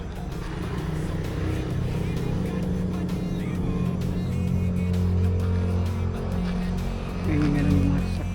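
Cars pass on a road beside an abandoned building, a steady, close engine and tyre rumble that swells near the end, while a person talks over it.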